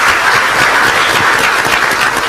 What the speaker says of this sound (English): join me in congratulating them with a very, very warm round of applause